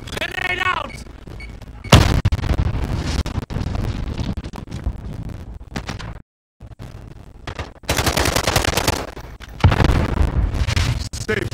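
Call of Duty Warzone gameplay with a grenade blast and rapid bursts of gunfire, loud and layered with a short silence partway through, while players talk over the action.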